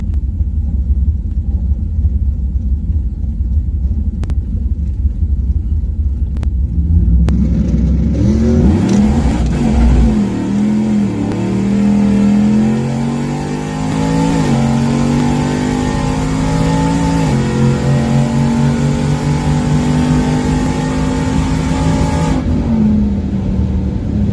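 A Whipple-supercharged Ram truck launching on a quarter-mile drag strip: low idle rumble, then the engine roars up through rising revs with gear shifts, loud and close for the length of the pass.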